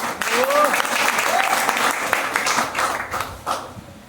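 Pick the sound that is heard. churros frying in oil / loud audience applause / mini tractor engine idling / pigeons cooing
loud audience applause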